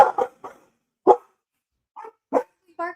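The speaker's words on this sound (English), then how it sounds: "Why are we barking?" A dog barks in short, sharp bursts close by, about six or seven barks spread unevenly across a few seconds with quiet gaps between, the last one more drawn out and whiny.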